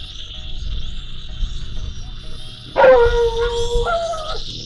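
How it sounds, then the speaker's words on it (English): A neighbour's dog barks and yelps in a sharp burst partway through, sounding moderately near and loud over a steady high whine from a small FPV racing drone flying outdoors. "And there's the neighbor's dog."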